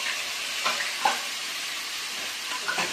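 Curry masala sautéing in a pan for a simple chicken curry, giving a steady close-up frying hiss with a few brief stirring scrapes.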